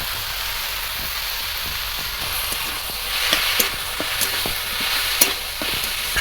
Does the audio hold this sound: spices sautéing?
yes